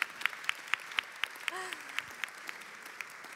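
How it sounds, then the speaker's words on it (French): Sparse applause at a French conference on disability at work, as a panelist is welcomed: a few scattered, distinct claps spaced across the clip, with a brief voice fragment near the middle. "Anne-Sara, oui, on vous applaudit tout à fait"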